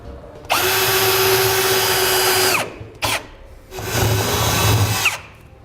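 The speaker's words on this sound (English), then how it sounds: "I'm going to drill a pilot hole first" A power drill whines loudly in two long bursts with a brief blip between, the motor pitch steady then spinning down, drilling a pilot hole for a gooseneck trailer hitch installation on a 2014 Toyota Tundra.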